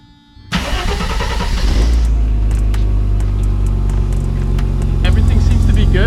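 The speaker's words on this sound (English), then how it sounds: "the engine is running better" A Mercedes W124 engine cranks and catches after a brief pause, then settles into a loud, steady running idle with a rise near the end, close to the car, with voices nearby.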